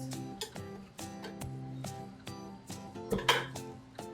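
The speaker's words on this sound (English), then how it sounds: "Okay, so we're gonna cut up a slice." Knife work while cutting a slice of butternut cake, with a series of sharp clinks and taps of metal cutlery against a plate or pan, spaced irregularly over a steady background hum, close and moderately loud.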